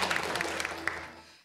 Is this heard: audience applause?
yes